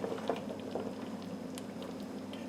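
Homemade ketchup reduced to a thick sauce with spices and cinnamon sticks simmers on a stovetop, giving a soft, steady patter of small bubbles popping close by at low volume.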